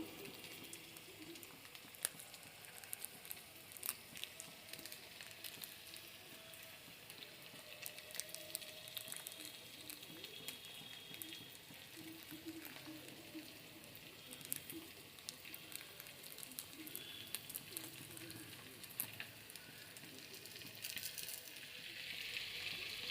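Eggs cracked into a pan of chow mein with turmeric and Maggi masala fry with a steady, moderately quiet sizzle and light crackle, joined by occasional scraping and stirring taps throughout, with no voice heard.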